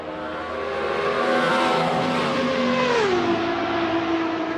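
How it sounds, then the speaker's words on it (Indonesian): Racing motorbike engine in a video game revving steadily and loudly, its pitch sweeping up and then dropping to a lower drone near the end, heard alone without voices. "ada motor balap"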